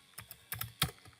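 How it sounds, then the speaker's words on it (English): Several quick keystrokes on a computer keyboard, entering the whois command in a Kali Linux terminal, close and crisp with irregular rhythm and no talk. "just type whois"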